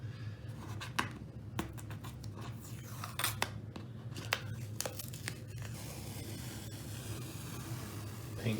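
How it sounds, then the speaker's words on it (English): Painter's tape peeled off a freshly painted wall, a run of sharp ripping and crackling tears in uneven bursts, close and fairly quiet, with no talking. "We are going to have the big tape peel reveal to see if our technique worked."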